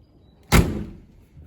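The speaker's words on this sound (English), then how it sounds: "I love the way the doors shut on these things, and they never drop" A classic Humber car door swings shut with a single solid, close clunk, ringing out briefly before fading against a quiet background.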